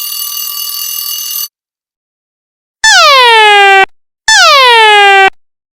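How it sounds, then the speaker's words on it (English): An alarm clock app sounds at its lowest volume setting: first a steady buzzing electronic tone, then after a pause two loud, identical descending ringing chimes, each about a second long, with no talk. "Let me show you a quick preview of the alarm clock at lowest volume."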